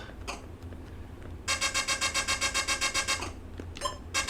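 The Coleco Donkey Kong Jr. video game gives off a harsh, raspy electronic screech pulsing rapidly for about two seconds, with short bursts before and after, fairly loud against a quiet background.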